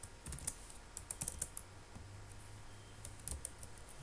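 Code is typed on a computer keyboard in a quiet room, irregular bursts of close, light key clicks with short pauses between them.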